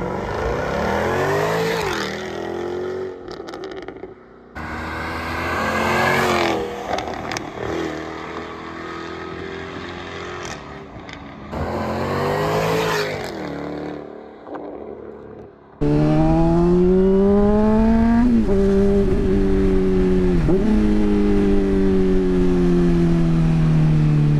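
Jaguar F-Type sports car accelerating hard along a deserted road beside a highway, engine note rising through repeated gear pulls with brief lifts between, then a sustained loud high-revving run, close and dominant with no talk.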